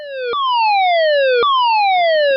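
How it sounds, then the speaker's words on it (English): Prepare-to-abandon alarm aboard the offshore vessel Aoka Mizu: a loud electronic tone that sweeps downward, then jumps back up to restart, repeating about every second, alone with no voices. "This is the prepare to abandon alarm."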